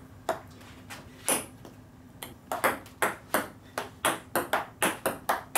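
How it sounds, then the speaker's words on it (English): A ping pong ball struck by a homemade paddle faced with weatherstripping, soft muted taps in an irregular rally that grows quicker toward the end, close and fairly quiet. "To test out the weather strip paddle."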